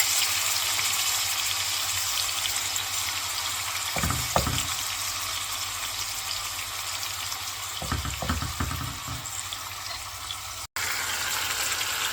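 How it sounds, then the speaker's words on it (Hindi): Marinated chicken pieces fry in hot oil on a medium flame, giving a steady, even sizzle close by with a couple of brief stirring scrapes, and nobody talking. "ऑयल हमारा गरम हो गया है। अब हम इसमें चिकन डाल देते हैं जो हमने ऑलरेडी मैरिनेट किया है।"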